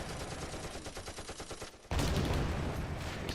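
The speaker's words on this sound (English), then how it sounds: "Seems like the Stug is laying down some good supporting fire" Dense rapid bursts of gunfire from a StuG assault gun in the Close Combat game, a steady crackling fusillade that jumps louder and heavier partway through, with no voices.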